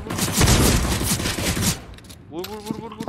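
Dense automatic gunfire from the game CS:GO, loud and sustained rapid bursts for about two seconds, then a brief lull as a voice starts speaking over fainter shots.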